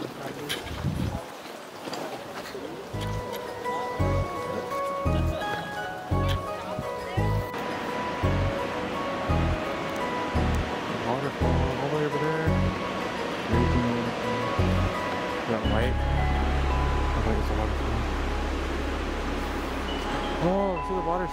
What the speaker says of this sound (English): see the water stream